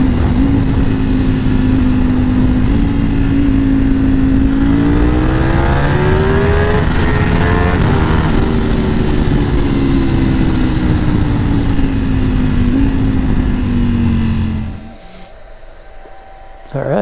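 Carbon fiber Ducati V4S motorcycle engine holding a loud, steady drone with pitch rising and shifting as it revs and accelerates, constant wind rush throughout, then dropping off abruptly near the end.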